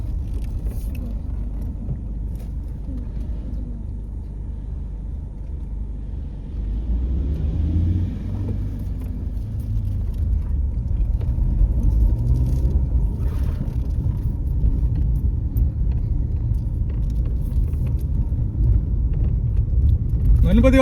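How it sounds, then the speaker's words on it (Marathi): Crowded road traffic near a temple in a Konkan village, heard as a continuous low engine rumble that grows louder midway, with faint voices in the background. "बघ किती गाडी लागली"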